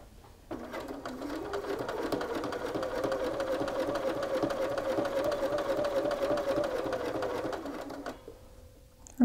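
Sewing machine stitching a garment pocket in one steady, close run of rapid whirring that lasts several seconds, then stops, followed by a brief click.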